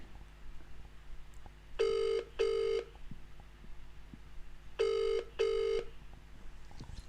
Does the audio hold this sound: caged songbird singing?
no